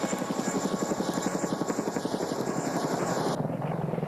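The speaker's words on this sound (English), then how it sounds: "The CH-47 Chinook provides heavy lift capability and can even lift vehicles and light artillery." A CH-47 Chinook heavy-lift military helicopter flies nearby, its rotor blades thudding in a steady rapid pulse over a constant engine whine, loud and continuous with no voices.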